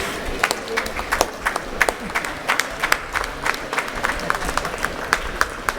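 Audience applause at a Kudremukh Trophy 2024 prize distribution, steady scattered clapping from a moderate crowd with sharper individual claps popping out throughout, a voice briefly audible underneath.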